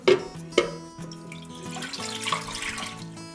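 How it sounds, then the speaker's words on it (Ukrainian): Water pours into a bread machine pan for rye bread, a splashing trickle that swells and fades over a few seconds, heard alongside steady background music. "300 мл води, вливаємо в чашу"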